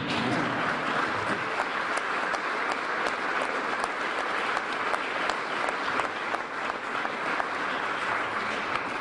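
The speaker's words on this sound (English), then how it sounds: "You can clap for that, that's fine." An audience at a city's State of the City address claps steadily, a dense, continuous wash of applause from a large crowd that holds evenly throughout.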